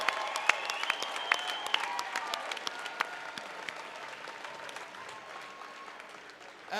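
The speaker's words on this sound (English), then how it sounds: "one more round of applause for a fantastic fight" A crowd at a welterweight mixed martial arts event applauds after a fight, with sustained dense clapping and a few sharp louder claps, tapering slightly toward the end, with no voices over it.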